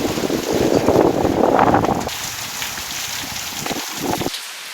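Strong wind and heavy rain in the Ratnapura district of Sri Lanka make a dense, steady roar of gusts and pouring water, loudest in the first half and then easing slightly.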